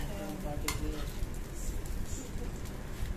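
A thick bun parotta cooks on a hot pan while being pressed down repeatedly, giving a soft continuous sizzle with occasional scraping and a brief utensil clink, close and low in level.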